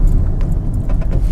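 A Fiat Grande Punto with drum rear brakes pulls up hard from 30 mph, giving a brief burst of low road and tyre rumble with faint interior rattles.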